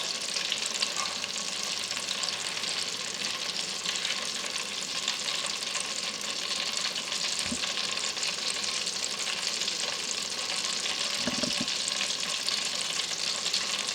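Hot petroleum jelly with a little water in it crackles and sizzles steadily in a pan while hair cream is made, a dense frying hiss with a couple of soft bumps and no talking.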